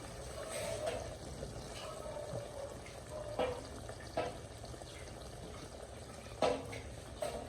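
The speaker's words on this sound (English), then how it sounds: "that's when you add a little bit, just a little bit of water." A thin stream of water trickles into a blender of tomatoes with a few soft knocks and splashes, fairly quiet and close by.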